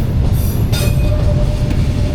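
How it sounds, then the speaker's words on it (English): A train creeps slowly across a road crossing in Vietnam, its steady low rumble loud and continuous throughout, with faint wheel squeal and a brief high tone above the drone. "the train has only arrived here now. It's going extremely slow."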